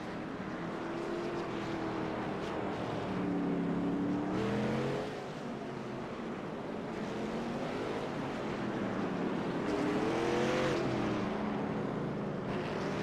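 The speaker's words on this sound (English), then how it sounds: "Let's just listen to the cars for a second." Race cars circle the track at New Smyrna in a sim racing game, several engines droning and shifting pitch as they pass, a steady loud pack roar with swells around the middle and near the end, no talk.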